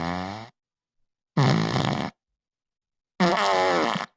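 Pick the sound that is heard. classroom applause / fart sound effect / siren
fart sound effect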